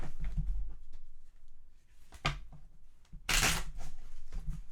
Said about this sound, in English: So it's hard for me to shuffle the whole deck at once.